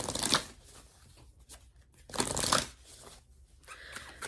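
Animal oracle cards are shuffled close by in short, crisp papery riffling bursts separated by quiet pauses, faint and intimate, with no talking.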